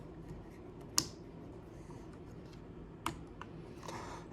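Plastic Transformers Legacy Cybertron Metroplex toy parts being folded back, giving two sharp close clicks about two seconds apart plus a fainter snap, over a quiet background.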